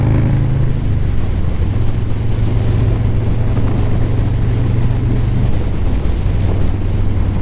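A lowrider's engine revs hard on city streets. The drone is loud and steady, with shifts in pitch as it climbs and drops, and heavy wind buffeting masks part of it.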